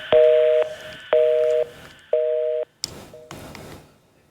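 A telephone busy signal sounds after a call drops during a television news broadcast, three loud, evenly spaced tone bursts followed by clicks and a shorter, fainter fourth tone.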